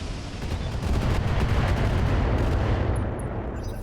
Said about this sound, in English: So we'll fire listen kill ammo. Put one in the back.